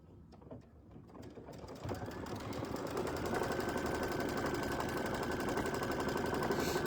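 An embroidery machine stitches a tack-down line around the corners of fabric on a mug rug project, starting with scattered clicks and then settling into a fast, steady mechanical rattle that runs on without pause.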